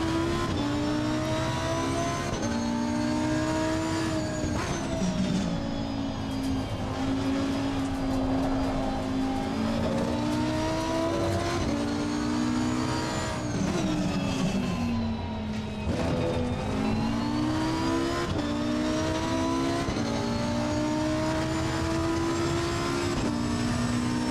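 A race car in a sim racing video game drones steadily at high revs for the whole stretch, its engine pitch rising and falling through gear changes and corners, loud and continuous with no talking.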